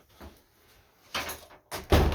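A door at a house on Ganton Street moves with a couple of soft bumps, then two louder knocks or thuds toward the end, close and without talk.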